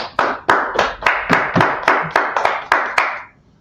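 At a Wednesday law class, a small group claps in unison for the Most High. About ten sharp, evenly spaced claps ring out close by, then the sound fades.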